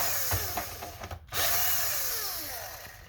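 A power screwdriver backs screws out of the rear of an Xbox Series S console. There are a few short clicks and taps, then a close, whining motor burst that rises and falls as it spins.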